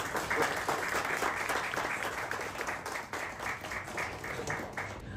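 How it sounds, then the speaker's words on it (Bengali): Sustained audience applause for a photojournalist at a farewell tribute, a dense steady wash of many hands clapping together for several seconds, with no talking over it. "আমি ওকে একদম প্রথমে একটা বড় করতালি দিলাম।"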